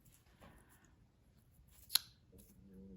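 A single crisp snip of scissors trimming tape on a burlap ribbon bee, close and quiet, with faint handling rustle around it.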